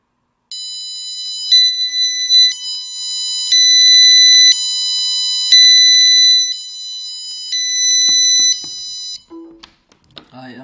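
Piezo buzzer driven by an Arduino board, playing a loud, shrill, steady electronic tone that steps between several pitches over about nine seconds, followed by a few small handling clicks and faint noises.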